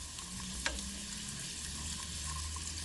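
Vegan dumplings fry in a pan, browning on each side, giving a steady close sizzle and crackle with a faint brief clink partway through.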